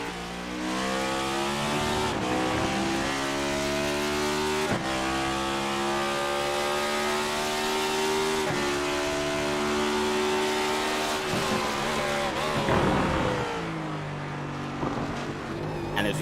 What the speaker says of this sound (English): as we look inside the cockpit, second gear, a lot of shifting